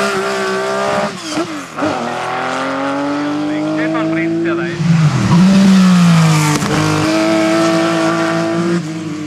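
A Ford Focus E16 4x4 rally car's engine revs and howls up and down nearby at a drift event in Naas, 2012, with tires squealing through a slide midway, loud and close.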